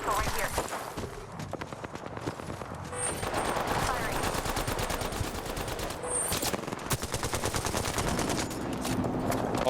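Rapid automatic gunfire in an Apex Legends match, loud near bursts rattling almost continuously with brief gaps, overlaid with footsteps and other game effects.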